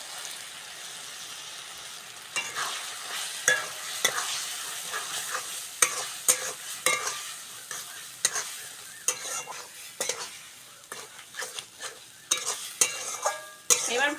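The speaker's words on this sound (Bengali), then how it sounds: "ভালো করে কষতে হবে চিংড়িটার সঙ্গে মশলাটা" Prawns stir-fried with spice paste for Bengali potol chingri: a steady sizzle in the pan, broken by frequent scraping and stirring clatters from a spatula, close and fairly loud, with no talk.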